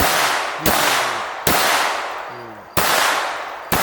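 Two loud, sharp pistol shots crack out at an outdoor shooting range, each followed by a long decaying echo, with another report at the start and a further one at the very end, no talking between them.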